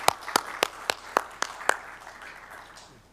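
At a city council meeting, a handful of people clap in a short, sparse burst of about seven distinct claps that quickly fade into quiet room tone.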